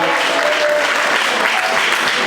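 A crowd claps and cheers at a political rally in Kenya, a dense, loud, continuous burst of applause from many people close by.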